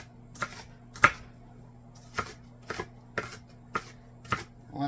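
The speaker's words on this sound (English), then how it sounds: "I want to dice these up pretty small." A knife dices onions on a cutting board in a home kitchen, producing about eight crisp, separate chops at an uneven pace over a low steady hum, with no talking.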